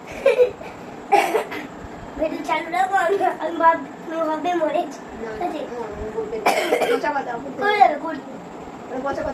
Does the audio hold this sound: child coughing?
yes